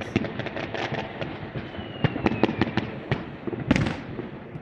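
New Year fireworks burst over a rooftop slab in a rapid series of sharp pops and crackling bangs, some close and loud, with scattered crackle between the blasts.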